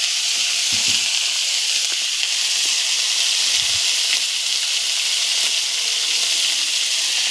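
Boiled banana flower hitting a hot pan, a steady broad sizzle and hiss of frying that holds evenly throughout with a couple of faint low knocks, no voices.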